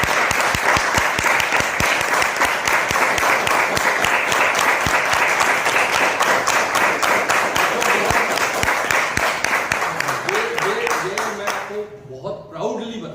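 A seminar audience in Nagpur claps loudly in a fast, even rhythm, almost in unison, for around twelve seconds before it dies away and a voice starts speaking.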